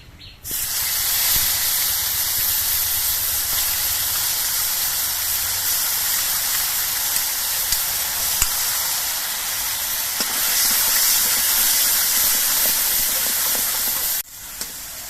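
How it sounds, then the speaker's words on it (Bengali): Loud, steady sizzling of onion paste frying in hot oil, a dense hiss that runs for about fourteen seconds before cutting off. "এবার আমি দুটো পেঁয়াজ পেস্ট করে নিয়েছিলাম সেই পেঁয়াজ বাটাটা দিয়ে দিচ্ছে"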